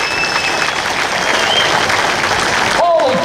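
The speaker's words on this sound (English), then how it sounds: "Let's give a round of applause to our founding fathers" A crowd at a political fish fry in Panama City applauds loudly and continuously, dense clapping filling the space, ending with a voice starting to speak.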